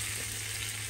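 Eggplant and kebabs frying in a pan, a steady dense sizzle with an even hiss and no pauses, fairly quiet and unbroken by speech.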